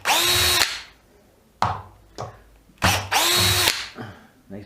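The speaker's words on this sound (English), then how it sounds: "Just rip these screws out just now." DeWalt DCF815 cordless impact driver backing out screws: two long, loud bursts of whining, hammering rattle with short pauses and brief blips between them, close up and with no talk.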